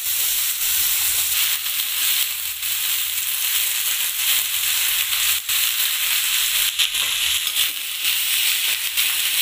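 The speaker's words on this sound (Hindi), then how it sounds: "मैं डाल दूंगी इसमें ये बीन्स और आलू" Green beans and potatoes sizzle in a hot pan for a home-cooked Indian vegetable dish made without onion. A loud, steady, crackling fry with small pops continues throughout, with no talk.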